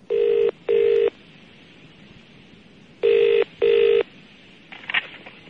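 Ringback tone on an outgoing telephone call, heard as two pairs of short double rings separated by a long gap, clear over faint line hiss, with a brief crackle at the end.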